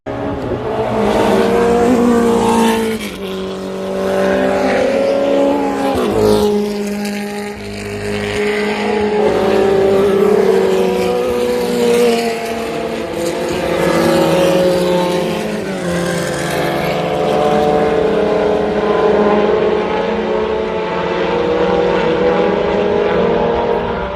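Historic Grand Prix race cars on the first lap through turns 11 and 12 at Road Atlanta, engines howling loudly and continuously, pitch rising and falling as cars brake, downshift and accelerate past.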